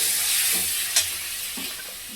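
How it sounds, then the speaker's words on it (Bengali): Water from rinsing a spice bowl hits hot frying spices (turmeric, cumin and coriander powder) for a potol malai curry, with a loud, continuous close sizzle and one sharp splash-like burst near the start. "এবার এই যে বাটি ধুয়ে জলটাও দিয়ে দিচ্ছি মশলা।"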